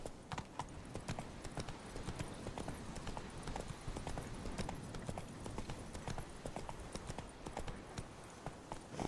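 Hooves of the horse Roach in The Witcher 3 clip-clop in a steady, continuous walking rhythm across the ground, mixed with soft game ambience and faint rustling, with no clear talk.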